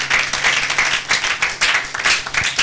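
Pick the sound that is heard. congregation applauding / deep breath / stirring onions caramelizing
congregation applauding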